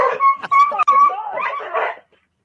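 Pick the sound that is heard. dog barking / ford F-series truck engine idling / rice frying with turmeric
dog barking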